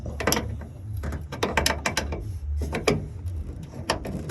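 A socket ratchet tightens a Pop & Lock tailgate lock on a Ford, giving a run of close, sharp clicking bursts in irregular groups with brief pauses between strokes.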